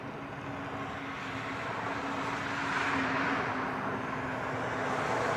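A Hawaiian Airlines Airbus A321 arrives, a broad steady jet roar that swells gradually and holds loud, with a faint tonal hum running underneath.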